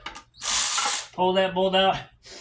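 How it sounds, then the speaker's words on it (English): A small impact wrench pulls a starter bolt on a 2012 Nissan Titan: a loud, close burst of hammering rattle, then a pitched whirring spin that stutters in short pulses before stopping. "I just used my little impact wrench, come behind it, pull that bolt out"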